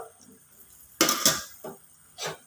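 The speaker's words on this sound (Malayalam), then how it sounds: "ഇളക്കുക" A metal spoon stirs chicken curry masala in a pan, giving a few sharp scraping clinks against the pan separated by short pauses, close and clear.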